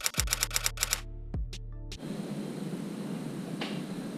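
Quick run of typewriter key strikes ending in a carriage-return ding, then a soft hiss of room noise with one faint tap.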